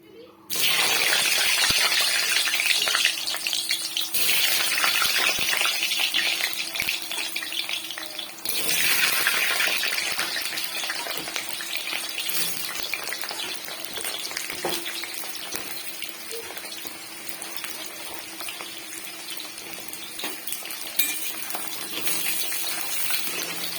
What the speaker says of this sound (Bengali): এখন তেলটা গরম হয়ে গেছে, এই গরম তেলে দিয়ে দেব আলুগুলো আগে ভালো করে